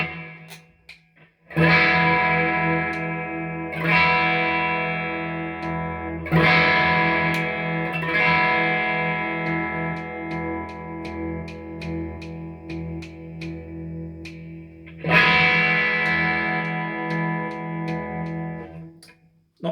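A Squier Classic Vibe 70's Jaguar electric guitar in shell pink, played through its strangle switch, rings out in four or five loud strummed chords, each left to sustain and decay with effects-laden distortion, with no talking.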